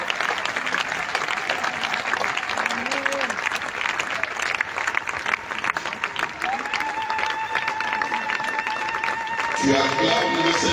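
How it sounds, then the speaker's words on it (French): A church congregation claps and applauds in a steady, sustained wash of hands, with voices and a sung or called line rising over the crowd toward the end. "Acclame très fort pour le Seigneur."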